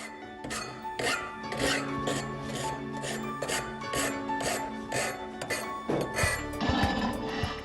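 A metal file cuts the end of a bicycle frame tube for mitering, making a regular series of rasping strokes about twice a second over steady background music.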